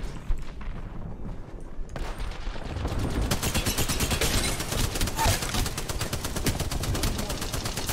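Automatic gunfire in the video game Apex Legends, rapid sustained bursts of loud shots that start sparse and then become a dense continuous barrage from about two seconds on, with faint voice earlier.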